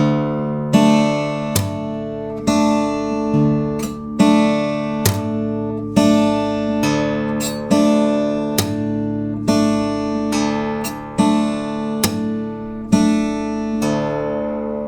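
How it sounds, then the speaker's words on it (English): Guitar in an alternate tuning, open strings plucked and then slapped in a steady repeating pattern, with bright sharp attacks ringing over sustained low notes, close and clear with no voices. "pluck the string, and then slap"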